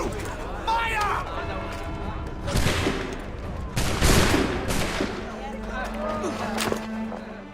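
A musket volley in an Assassin's Creed video game cracks out as several loud, overlapping gunshot bursts fired in close succession, with game voices and scuffling sounds around them.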